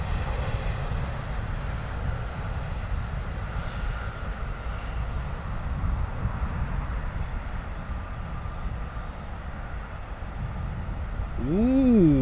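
An Airbus A320 jet comes in to land at London Heathrow, its engine noise a moderate, steady rushing drone from a distance, with a brief tonal chirp near the end.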